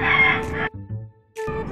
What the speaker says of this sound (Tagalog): Wow! Mga bagong papisang sisiw.